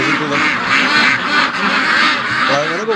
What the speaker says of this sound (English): The ducks want out really bad.